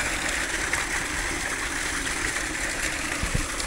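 A submersible pump on a farm field pushes out a steady, loud rush of gushing water, continuous and close, with no break.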